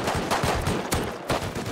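Rapid gunshots in the video game Rust, about five sharp reports in under two seconds, close and fairly loud, with no talking.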